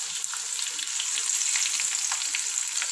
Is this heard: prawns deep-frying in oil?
yes